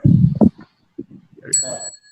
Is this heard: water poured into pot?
no